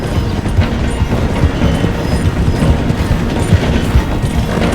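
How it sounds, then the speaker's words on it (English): A steam-era train in Red Dead Redemption 2 rumbles and clatters steadily as it slows toward a station, a loud, dense rolling roar with no voices. "The train is slowing down to go through the station."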